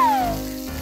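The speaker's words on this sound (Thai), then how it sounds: "เสร็จแล้วก็ใส่แครอท ผัด" Carrots being stir-fried in a miniature toy kitchen give a short, close, steady sizzle with a brief whistling tone sliding down at the start, and no voices.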